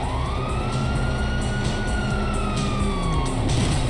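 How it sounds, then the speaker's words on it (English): Police sirens wail steadily in Grand Theft Auto V, one rising and falling tone sweeping over a dense, loud wash of traffic and street noise without speech. "you hear that? Sirens."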